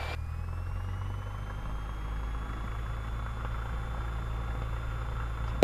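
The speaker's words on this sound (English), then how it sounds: "so we're going to throttle up to 1700 RPM" A Cessna 172 Skyhawk engine hums at steady runup power around 1700 RPM, a constant close drone with a faint rising whine and no speech.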